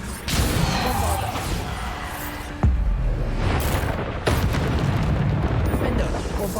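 Repeated Bombarda explosion spells go off in Hogwarts Legacy, sharp booming blasts landing at intervals amid crashing debris and game effects, with a voice speaking over the action.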